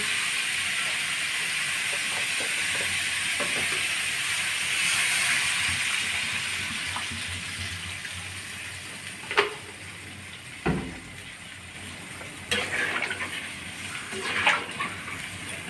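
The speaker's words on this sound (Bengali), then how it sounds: "ডাটাগুলো ফুলতে হওয়ার জন্য জল দিচ্ছে" Water goes into a pan of vegetable stalks cooking with turmeric, a soft, steady sizzling hiss that fades a little, followed by a few sharp clinks of utensils against the pan.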